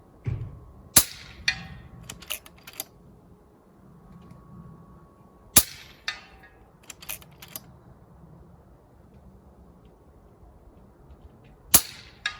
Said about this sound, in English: We're gonna take a few shots over the chronograph just so we can document our speed